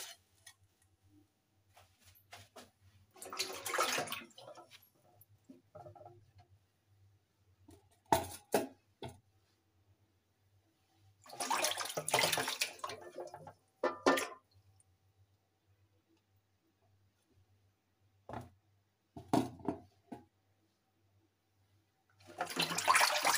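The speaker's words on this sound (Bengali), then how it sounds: "এই যে পরিষ্কার করে সুন্দর করে আমি ধুয়ে নিয়েছি" Carrots for halwa are washed under running water, heard as intermittent bursts of tap water splashing and trickling, fairly close, separated by quiet gaps.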